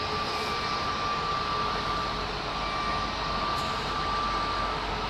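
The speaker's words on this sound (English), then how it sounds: "arrivals are commencing, or carrying on, should I say, on the southern runway now" An aircraft arriving on an airport's southern runway gives a steady, continuous engine roar that holds evenly throughout, with no talking.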